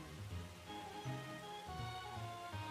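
Rain weather effect from Pokémon Ultra Sun, a steady pattering water ambience with low tonal game music beneath, even and unbroken throughout.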